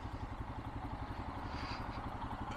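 A Royal Enfield Himalayan motorcycle engine runs with a steady, throbbing rumble and faint mechanical clatter, fairly close and continuous.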